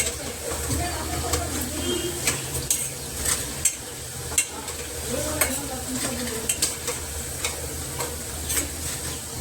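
Oil crackles and sizzles steadily as bajji fritters fry, with sharp clicking scrapes from stirring scattered throughout.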